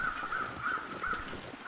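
Crows caw in The Long Dark's outdoor wilderness near a body by shipping containers, a steady series of evenly spaced, faint distant caws over a soft windy ambience.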